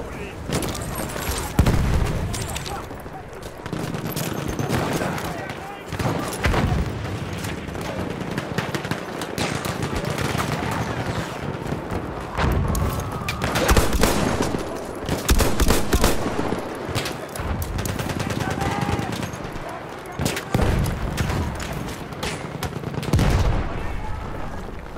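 Machine gun fire in a video game: repeated loud automatic bursts and scattered single shots with occasional booming blasts, continuing throughout amid battle noise and some faint talk.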